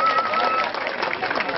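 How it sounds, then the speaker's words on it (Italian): Audience at an outdoor music festival applauding, steady dense clapping with crowd noise throughout the short stretch. "Facciamo un applauso"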